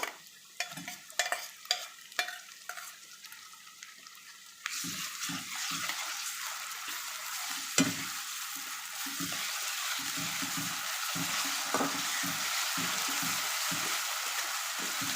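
Ginger garlic paste hits a hot pan with mutton: scattered spoon taps and scrapes give way to a loud, continuous sizzle and frying hiss, stirred with occasional clinks, no voices.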